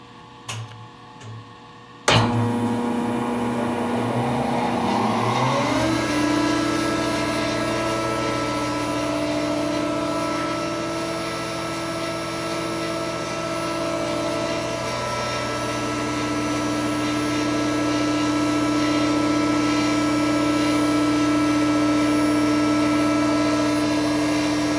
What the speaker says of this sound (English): This motor does have a brake on it, so when we shut it off, it'll ramp down a little quicker than most.